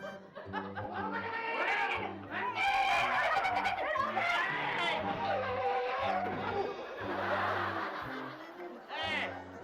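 A car speeds and skids, tyres screeching over a steady engine roar, with music and voices talking and laughing throughout.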